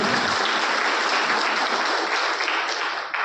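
An audience at a Women's Day felicitation event by a disability foundation in Lonavala claps continuously, a dense, loud burst of applause that holds steady and eases slightly near the end.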